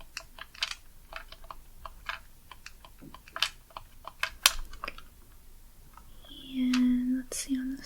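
Small buttons on a worn, used handheld game console get pressed in a quick run of sharp, close clicks with soft whispering between them, followed by a brief louder rattle near the end.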